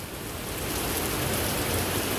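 Steady rain falls in New York, a dense, even hiss of drops hitting surfaces that stays constant and fairly close throughout the short stretch, with no voices.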